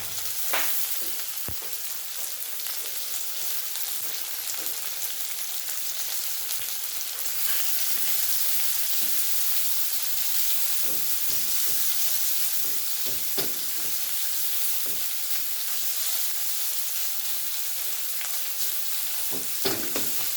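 Bangus fish frying in hot oil, a dense, steady sizzle heard up close with occasional pops and light clicks of utensils, continuous for the whole stretch.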